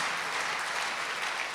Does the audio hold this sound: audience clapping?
yes